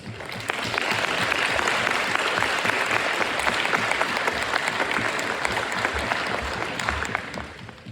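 A banquet audience at the Westfall FFA chapter gives a long round of applause for the contest team members, a dense, steady wash of clapping that holds for about eight seconds before easing off.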